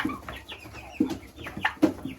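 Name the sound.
turkeys calling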